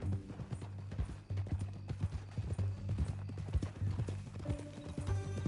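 Horse hooves clip-clop in an uneven walking rhythm in Red Dead Redemption 2, with a brief whinny near the end, moderately close and mostly free of talk.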